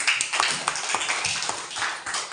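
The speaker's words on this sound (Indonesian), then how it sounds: "Oke, tepuk tangan sama Clary." Children clapping their hands in a classroom, a quick run of sharp, close claps forming a brief spatter of applause.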